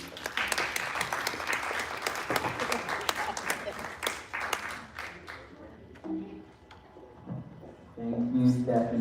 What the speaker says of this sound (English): Ladies and gentlemen, please give a big round of applause to Dr. Rich Castellano.